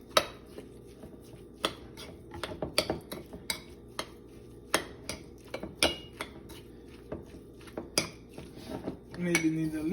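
Utensil clinks and scrapes against a bowl while egg is mixed into a homemade crab cake mixture, with irregular close, sharp taps throughout and busier clattering toward the end.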